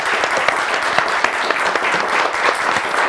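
Studio audience applause for Gülşah Hanım on the Turkish word-game show Kelime Oyunu, loud close clapping with distinct sharp claps popping out of the dense patter, no speech.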